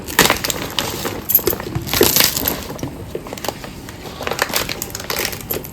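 Leaves crinkle and crunch as mourala fish paturi is folded up in them by hand, close and irregular, with bursts of crackling rustle and short pauses.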